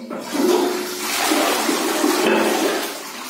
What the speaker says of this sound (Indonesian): Nah, sekarang kita coba ngeplasnya.